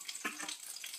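Oil heating in a pan for a tempering while cooking stuffed bitter gourd with onion masala: a brief, soft sizzling hiss with a couple of light crackles, close and quiet.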